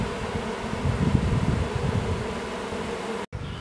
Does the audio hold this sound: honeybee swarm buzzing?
yes